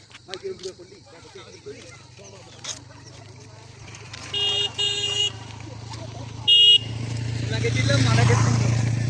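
Road traffic with several short horn toots, then a vehicle engine swells as it passes close by near the end, while voices talk over it.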